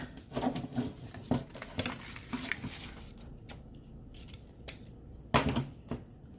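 Floral wire from Dollar Tree being snipped into small pieces, several quiet sharp cuts and clicks spaced irregularly, with some soft handling noise between them.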